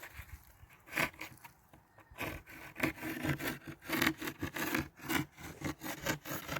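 Wooden ski edges are trimmed with a Leatherman multitool, giving a series of quiet, close rasping and scraping strokes in an uneven rhythm.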